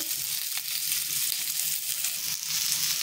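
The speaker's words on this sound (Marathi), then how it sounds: "आता इथे तव्यामध्ये मी जे कांदा कट करून घेतलेला आहे ते टाकून घेणार आहे" Chopped onion frying in oil in a pan on a stove, a steady close sizzle that holds for the whole stretch with no talking over it.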